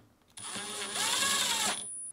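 A power screwdriver drives a screw back into the middle cover assembly of a GE refrigerator, one steady whirring burst of about a second and a half that rises in pitch, close and fairly loud, with no talking.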